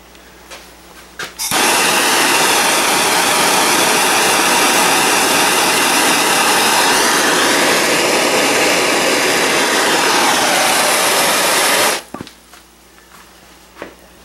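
Torch heating metal to solder tenons onto a gun barrel, a loud continuous roaring hiss lasting about ten seconds, close up, with quiet handling sounds before and after.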